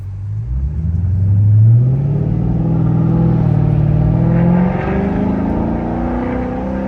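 A loud 480 hp Dodge Charger SRT8 engine rumbles steadily, rising as it revs up then settling into a deep, sustained drone with no talking.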